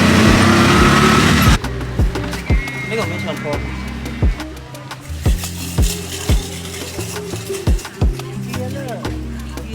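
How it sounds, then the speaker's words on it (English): Busy street traffic in Phnom Penh, Cambodia: a loud engine rush fades into a mix of motor hum, clattering and repeated sharp knocks and taps. Voices carry on throughout. "traffic's crazy today, or it's always crazy"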